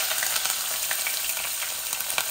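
Onion added to hot garam masala fried until red, with marinated chicken nearby in the pan: a loud, dense, continuous sizzle with fine crackles throughout, close and uninterrupted, with no voices.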